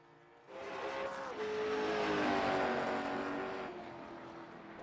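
A race car in a racing video game pulls out onto the track at USA International Speedway for qualifying, its engine rising to a steady, loud droning whine that holds, then eases slightly, with no talk.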